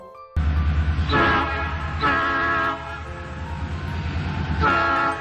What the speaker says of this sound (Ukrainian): Сідайте в потяг, ми вирушаємо.